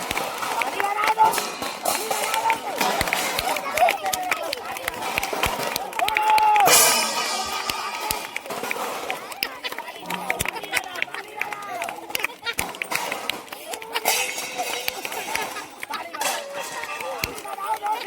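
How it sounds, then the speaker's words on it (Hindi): Children's audience at a street magic show clapping in a patter of many small hands, mixed with crowd chatter and a voice speaking over it throughout. "ताली बजाओ, ताली बजा दो।"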